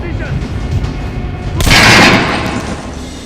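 Gunfire volley in the video game Metro Last Light, one loud, close, booming burst of shots after a shouted command, with voices heard just before it.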